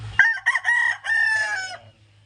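A rooster at a chicken farm gives one clear, close crow lasting under two seconds, with a low steady hum beneath it and quiet afterward.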